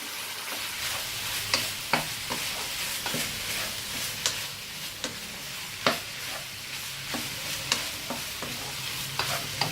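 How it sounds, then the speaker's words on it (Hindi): Chicken mince seasoned with chicken powder and salt fries in a pan with a constant sizzle, while a spoon stirs and knocks against the pan in sharp, irregular clicks over about ten seconds. "अब इसके अंदर 1-2 मिनट फ्राई करने के बाद चिकन पाउडर, नमक शामिल करके अच्छी तरह मिक्स कर लें"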